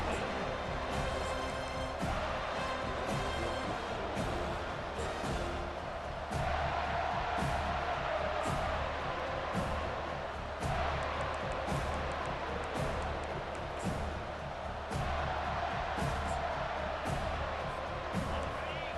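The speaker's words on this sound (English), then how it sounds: "This crowd bringing an ear-splitting welcome to their visitors." A stadium crowd in EA Sports College Football 25 roars without letup, a dense, steady wall of cheering and chanting as a home crowd greets the visiting team, with commentary voices speaking over it.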